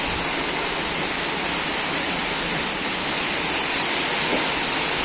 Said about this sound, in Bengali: দেখছো কি জোরে বৃষ্টি হচ্ছে